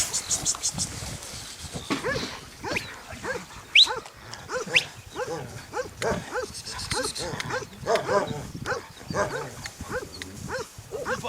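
Armenian gampr shepherd dogs bark on the slopes of Aragats in Shirak, with repeated deep, loud barks in an irregular rhythm from several animals, mixed with people shouting and calling at them.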